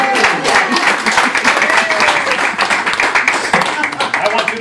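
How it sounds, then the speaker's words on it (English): An audience applauds with dense, loud, sustained clapping that continues steadily throughout, and a voice can be heard speaking over it. "Give her a big round of applause."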